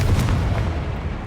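A loud, booming blast from the Confringo fire spell in Hogwarts Legacy, a single heavy burst that swells at the start and decays into a rumbling tail over about a second.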